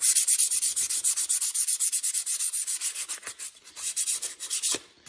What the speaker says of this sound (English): But with this, we're just going to use this light 220 sandpaper.